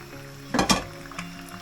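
Ready-cooked macaroni drops into a hot pan: a short burst of sizzling and soft clattering as it lands, then a brief fading hiss, close and quiet.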